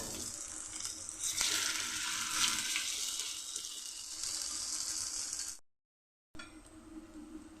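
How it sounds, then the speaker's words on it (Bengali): Banana flower kofta sizzles loudly in hot oil in a pan, a steady dense frying hiss that runs for several seconds, breaks off into a brief silence, then resumes. "এখন দুই সাইড আমি লাল লাল করে ভেজে নেব"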